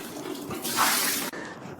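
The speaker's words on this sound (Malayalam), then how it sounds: "സാറ് ഒഴിച്ചേ, വെള്ളം ഒഴിച്ചേ" A brief rush of water being poured, a soft splashing burst that swells and then cuts off, with quiet background noise after.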